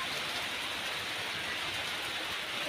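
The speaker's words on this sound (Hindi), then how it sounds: "देख सकते हैं कितनी बारिश हो रही, देखिए।" Heavy rain pours down steadily outdoors, a dense, continuous hiss of drops hitting surfaces throughout, fairly close and unbroken, with no voices.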